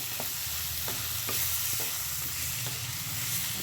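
Chicken pieces being stirred into a frying onion-chilli masala, a steady close sizzle with repeated scraping strokes of a spoon against the pan.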